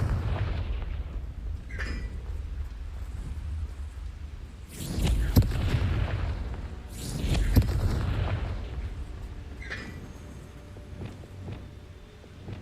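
Two heavy explosive blasts from the Confringo spell in the Hogwarts Legacy video game burst a couple of seconds apart, each a loud rumbling boom. Softer crackles and game ambience run between and after them.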